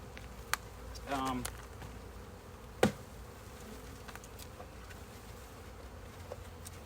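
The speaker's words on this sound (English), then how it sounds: "As you can see, there's just a few bees that came back." A steady buzz of bees hums around the scene, with a brief louder sweep as one passes close and a sharp knock partway through.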